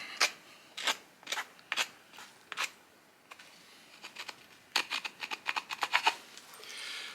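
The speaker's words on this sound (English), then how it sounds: "cutting through that piece of willow a second time using this flake that had a little bit narrower blade" A flint stone flake saws back and forth through a piece of willow wood, producing close, crisp rasping strokes, spaced in an uneven rhythm at first and then coming faster in a quick burst near the end, with no talk.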